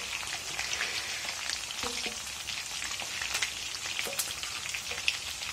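Battered chicken pieces frying in hot oil for restaurant-style chilli chicken, a soft continuous crackle and sizzle with occasional faint clinks of a utensil, fairly quiet and steady.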